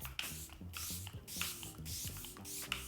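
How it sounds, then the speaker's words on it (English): A long-wear makeup setting spray is misted in several quick pumps, short airy hisses repeating at an uneven rhythm, close and soft, with faint rustling and handling noise between bursts. "These are both just long wear setting spray. So we're gonna go ahead and set it and forget it."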